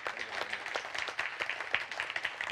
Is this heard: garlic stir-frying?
no